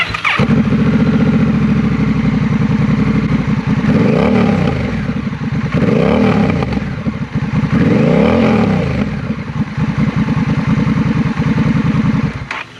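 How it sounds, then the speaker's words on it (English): A motorcycle engine starts up close by and keeps running loudly, rising in a few revs before settling back to a rough idle. "Now let's start the bike up and see how she sounds."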